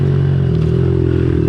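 Brief, close buzz of a Honda CRF 110 dirt bike engine held at steady revs while riding enduro terrain, with a light rattle underneath.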